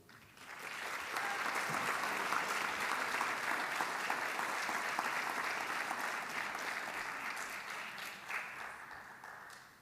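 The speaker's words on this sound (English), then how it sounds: "let's have another round of applause for all of our servicemen and women" An audience at an armed services ceremony applauds steadily for several seconds, a dense wash of clapping that swells quickly and then tapers off gradually.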